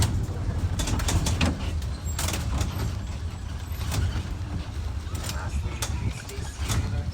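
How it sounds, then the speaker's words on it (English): A tourist tram rumbles and slows to a full stop at a nature park, with low engine drone, mechanical creaks and brief hissing bursts, continuous and fairly loud throughout. "Our tram comes to a full stop."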